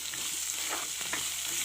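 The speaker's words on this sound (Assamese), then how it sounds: "তাৰপিছত এতিয়া ভাজি লওঁ অকণমান।" Khorisa tenga, fermented bamboo shoot, frying in a pan, giving a soft continuous sizzle with light scraping strokes of stirring.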